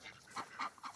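Ducks give a few short, nasal quacks in quick succession, close and moderately loud, with no people talking.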